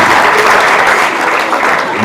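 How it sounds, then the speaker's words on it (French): Brief, vigorous applause from a gala audience in Montréal, a dense clapping roar that holds steady and eases slightly toward the end. "Applaudissez plus fort."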